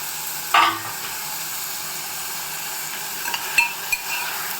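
Tomato, carrot, coriander and curry leaves frying in a pan, a soft steady sizzle with a couple of sharp utensil clinks and scrapes against the pan.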